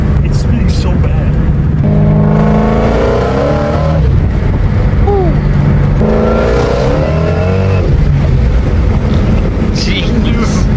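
A 1,000HP Shelby GT350 roars hard in repeated rising pulls while its wheels spin, loud and close, with excited voices shouting over the engine.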